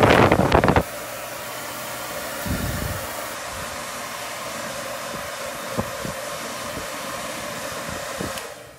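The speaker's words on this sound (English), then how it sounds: "I'm gonna take my blow dryer, and on cool," A blow dryer on its cool setting drying a silk screen runs in a steady, continuous whoosh after some brief clatter at the start, with a few small knocks and handling noises over the airflow.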